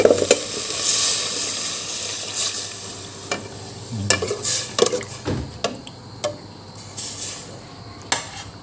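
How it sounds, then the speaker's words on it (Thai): Water poured into a pot of sizzling Thai pork-leg curry, giving a loud hiss and steady frying crackle with scattered clinks of a utensil against the pot and no talk. "เราก็ใส่น้ำลงไป"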